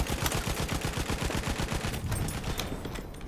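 A weapon in Battlefield 1 fires a fast, steady stream of rapid shots, loud and continuous for several seconds before tapering off near the end.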